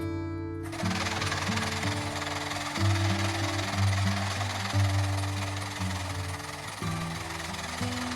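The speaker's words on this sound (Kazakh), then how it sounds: "Матаның үш жағын бірдей қылып, жай тігіспен тігіп аламыз." Domestic sewing machine running a straight stitch along three edges of a decorative cushion fabric, a steady mechanical whir with shifting pitch, loud and close, with no talking.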